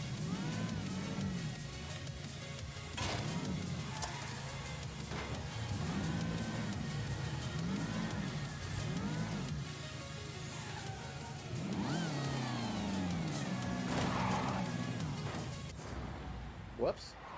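In a racing video game, a Lancia engine gives a distinctive note, rising and falling repeatedly through gear changes as it revs up and shifts, at moderate level, while a person talks over it now and then.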